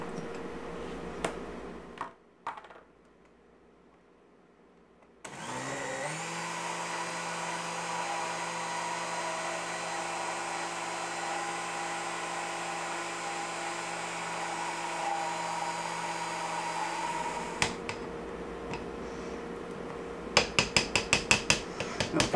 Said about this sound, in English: Okay, we have that well blended.